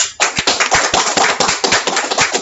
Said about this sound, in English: let's once again give him another well-deserved round of applause